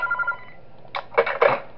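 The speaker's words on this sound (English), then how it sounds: "I gotta call the phone in the laundry room" A telephone in the video game Those Nights at Wario's 3 rings in a few quick, loud electronic bursts near the end, after a faint steady tone.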